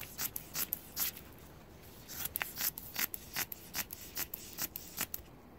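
Fiberglass matting for a Wellcraft transom rebuild is cut with scissors in a quiet series of crisp, rhythmic snips, each one short and close.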